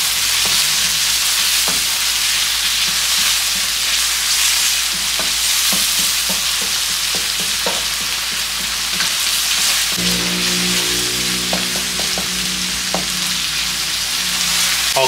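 Onion, garlic and chili sautéing together in oil for a Thai bamboo shoot dish, a loud continuous sizzle with occasional stirring clatters and scrapes, with no one talking.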